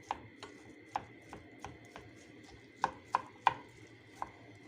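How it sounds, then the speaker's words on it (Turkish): A knife dices onions on a cutting board in irregular, sharp taps, about a dozen strikes, some louder than others, close and without voices. "iki orta boy soğanı minik minik küp küp doğradık"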